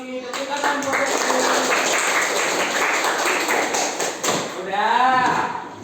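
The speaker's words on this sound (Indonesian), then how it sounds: "Tepuk tangan buat Lutfi." Fifth-grade pupils in an Indonesian elementary classroom give a classmate a round of applause, loud, fast rhythmic clapping mixed with children's voices and chatter throughout.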